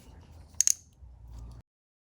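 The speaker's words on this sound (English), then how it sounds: "Insert each of the pins into the new connector until you hear an audible click." A pair of sharp plastic clicks from connector pins snapping into a new ignition coil connector on a Honda S2000, close and quick, with faint handling noise around them.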